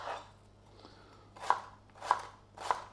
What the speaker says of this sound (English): I'm going to cut our onions into small sections like so.